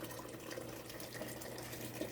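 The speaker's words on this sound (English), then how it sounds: "I'm just adding some more water to it right now" Water pours steadily into a pot of Jamaican Saturday soup, a continuous faint splashing rush that holds at an even level throughout.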